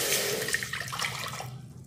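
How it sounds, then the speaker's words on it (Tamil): Water from a cup pours into a cooking pan on a gas stove, a steady splashing rush that fades out near the end, fairly close and alone. "இப்போ இதில் 1 கப்பு தண்ணி ஊற்றிக்கிடும்."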